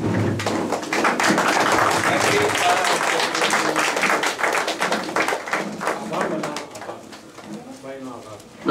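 Listeners at a Gujarati tarhi mushaira poetry gathering give a standing ovation. Loud, dense clapping fills most of the stretch, then thins and fades near the end, with voices mixed in.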